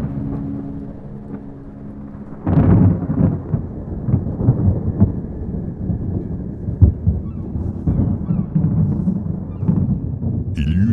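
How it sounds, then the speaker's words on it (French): Heavy thunder rumbles and crashes over a stormy sea, with a dense, continuous roar of wind and rain that swells loudly after a quieter start and keeps rolling without a break. "Il y eut alors sur la mer une grande tempête"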